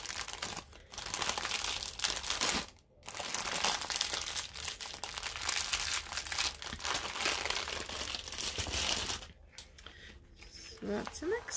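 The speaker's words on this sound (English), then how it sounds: "Sorry for the crinkling" Plastic packaging of a Temu diamond painting kit crinkles and rustles almost continuously at close range, with a few brief pauses, while someone talks over it.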